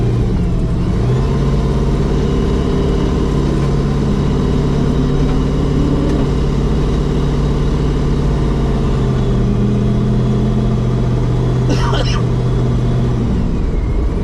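A 1500hp Chevrolet S10 pickup truck's engine drones loudly and steadily up close, with its pitch shifting as it pulls through a gear change under people talking.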